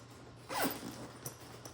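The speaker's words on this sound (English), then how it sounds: "I loved how nicely it zips all the way around" A garment duffel bag's zipper is pulled in one quick, close rasping stroke over a low steady background hum, followed by faint soft rustling.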